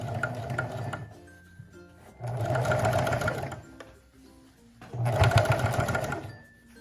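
A sewing machine stitches a seam on a mini dress bodice, whirring in three distinct runs, each a couple of seconds long, separated by short quiet pauses. The machine is close and fairly loud.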